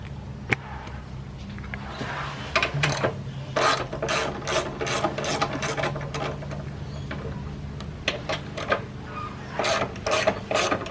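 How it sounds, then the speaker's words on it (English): An 8mm socket ratchet clicks in quick bursts while removing intake bolts on an FG, close and crisp, with rapid runs of pawl clicks separated by short pauses. "So these are 8mm bolts, so you'll need an 8mm socket for the heads of them."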